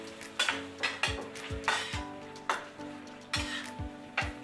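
A spoon scrapes and clinks repeatedly in a pan as chilli paneer sauce is stirred, with rhythmic metallic knocks over a light sizzle, close and fairly quiet, with no voices.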